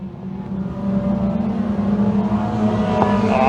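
Thundercar race cars roar past on an oval speedway, a loud, continuous engine drone that swells as the pack comes off the final turn and crosses the line.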